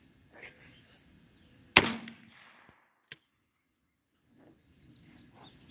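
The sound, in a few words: 20 gauge shotgun firing reloaded shells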